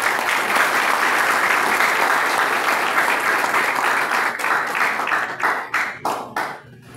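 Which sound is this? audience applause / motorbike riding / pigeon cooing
audience applause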